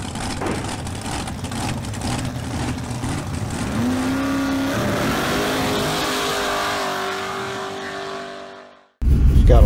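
A car engine warms up nearby and revs, its pitch climbing and holding in a strained whine before the sound fades out and cuts abruptly, with no talking.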